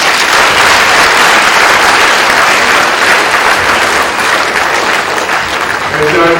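Sustained, loud applause from a large audience at a university special congregation ceremony, dense and steady throughout with faint voices mixed in underneath.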